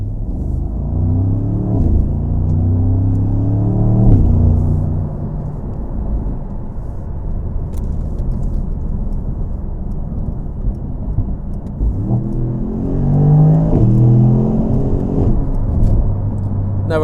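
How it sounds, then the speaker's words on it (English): A deep, rumbling V8 engine of a Mercedes-AMG SL sports car runs steadily, rising in revs at moments, loud and close with no talking. "It's what a V8's all about. It just sounds brutal."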